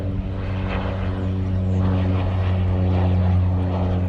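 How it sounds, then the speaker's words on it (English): A propeller plane taking off from the tarmac at Ogle Airport in Guyana, its engine drone steady and strong with a low tonal hum that grows slightly louder as it climbs. "And that's a plane just taking off from the tarmac at Ogle Airport."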